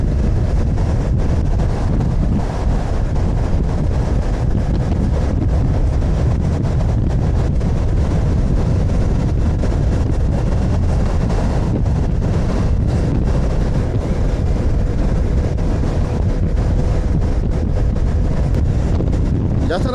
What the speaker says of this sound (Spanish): Hace airecico, ¿eh?